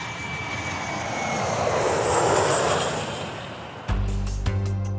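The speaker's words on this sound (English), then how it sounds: "here comes another jet out of the milder blue yonder" A jet aircraft roars past overhead, swelling to a broad peak and then fading away before an abrupt, loud mechanical clatter cuts in near the end.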